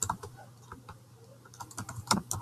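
Typing on a computer keyboard while entering a place name into a search box: a quiet run of soft, irregular key clicks, with a few sharper taps near the end, and no voices.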